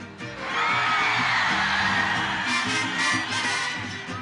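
A concert crowd shouts and cheers at a ranchera show, a dense, sustained roar of many voices swelling up after a brief quieter start and holding steady throughout.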